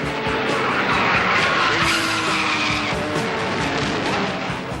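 A Formula 1 race car at Silverstone with its throttle jammed open roars past loudly, engine blaring alongside screeching tire squeal and skidding for several seconds.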